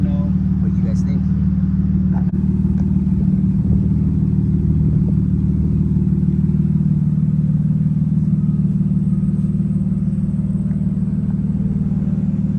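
A BMW E36 323i idling with its muffler deleted, a steady deep low rumble with a throbbing exhaust drone that holds constant throughout, close and loud.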